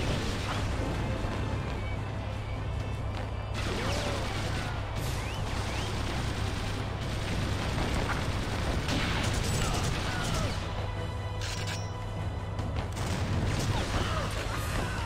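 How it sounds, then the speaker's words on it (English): Machine gun fire in TimeSplitters Future Perfect, a dense steady wash of shooting, clanks and crashes under constant game noise, loud throughout with no clear gaps. "Right, a machine gun."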